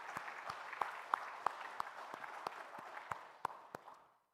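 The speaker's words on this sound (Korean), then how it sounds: "하나님 앞에 우리 감사의 박수 한번" A church congregation at Sunday worship claps together in a slow, steady rhythm of sharp, evenly spaced beats over a soft wash of hands, fairly faint, before fading out into quiet.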